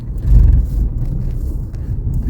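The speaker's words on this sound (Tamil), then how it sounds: "இந்த ஃபுல்லாக ஜல்லி கல்லாக இருக்குது பார்த்தீங்களா அதில் பட்டு அப்படியே டயர் சுற்றுது பயங்கரமா" A vehicle's tyres spinning on a loose gravel forest road at night, heard as a close, heavy low rumble that swells early and then holds steady.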